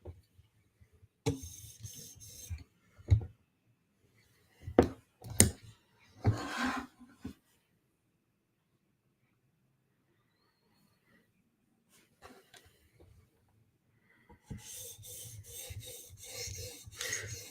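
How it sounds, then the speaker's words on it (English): A knife blade is rubbed across a whetstone to polish the bevel after a 400 grit stone, heard as short bursts of gritty scraping strokes separated by quiet pauses, then a longer continuous run of rasping at the end. "the burr that was left from the 400 grit stone and just polishing our bevel, getting rid of the scratches that are there."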